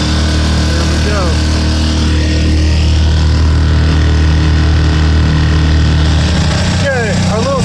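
A small 6.5 outboard motor towing a sailboat runs steadily and loud with a constant droning hum, close by, while voices briefly chirp over it.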